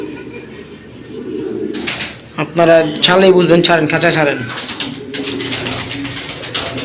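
Military Silver pigeons, including a hen over ten years old, coo softly in a cage, partly masked by someone talking close by through most of the stretch.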